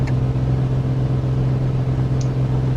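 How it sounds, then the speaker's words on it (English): A small aircraft's engine hums in a flight simulator game, a steady, loud, low drone with no clear breaks. "I can actually hear my engine missing a little bit here."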